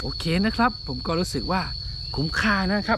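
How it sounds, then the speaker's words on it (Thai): Crickets chirp with a steady high, thin trill throughout, heard outdoors in nature behind someone talking in Thai close to the microphone. "กับเสียงจิ้งหรีดร้องกับธรรมชาติแบบนี้นะครับ"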